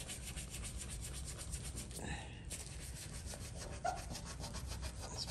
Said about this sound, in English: Let's buff it off.